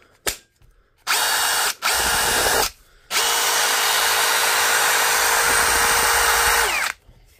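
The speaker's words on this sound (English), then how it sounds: "Try it on the impact driver." A Dewalt impact driver powered by a repaired battery runs in close, loud bursts: a short blip, two brief runs, then a sustained whir of nearly four seconds before stopping.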